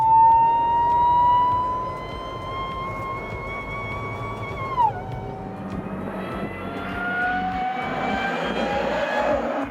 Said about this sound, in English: The supercharger sound is great.